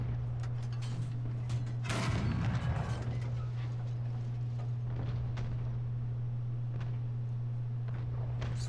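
Tank cannon shots in a World War II tank battle game set in Hurtgen Forest, with a heavy boom around two seconds in and fainter impacts later over a steady engine drone.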